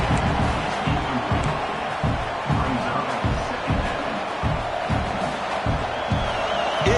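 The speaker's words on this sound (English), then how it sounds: "this crowd is fired up. Listen to this noise here." Stadium crowd noise from an NCAA 26 college football video game at an Oregon Ducks home game: a loud, steady roar of a fired-up crowd with rhythmic thumping pulses, likely stomping or chanting, repeating about twice per second throughout.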